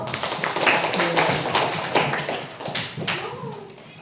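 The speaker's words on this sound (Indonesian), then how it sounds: "tepuk tangan untuk kita semua dulu" Students at a school outreach session, SMPN 1 Galang, applauding in a short ragged burst of clapping and tapping, with voices mixed in throughout.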